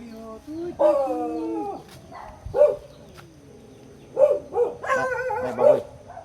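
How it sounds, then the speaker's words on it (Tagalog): Dog barks break out in short bursts while a hunting party goes looking for a pig, with several people talking over and between the barks. "Takot si Badan sa aso mga tol"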